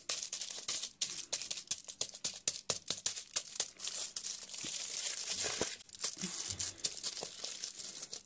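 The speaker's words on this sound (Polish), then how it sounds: "I teraz ładnie paznokciem wszystko dokniatam, żeby pokazał mi się szkic mojego wozu." A fingernail pressing and rubbing across a glued paper craft sheet for a fire truck picture: continuous close crinkling and scratchy scraping with irregular clicks and rustles, fairly quiet, and no speech.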